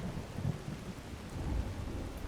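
A thunderstorm in the game Skyrim: a steady wash of rain with low rolling rumbles of thunder, heard faintly and without any talking.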